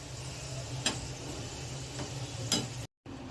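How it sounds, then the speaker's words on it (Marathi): Wheat flour modak dumplings deep fry in hot oil with a continuous soft sizzle, two faint ticks of a utensil, and a brief cut to silence near the end. "तर आता आपण हे तळून घेऊया."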